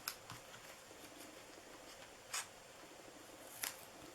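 Scissors make a few sparse, quiet snips while cutting material for a Christmas treat ornament, with soft handling noise between the cuts.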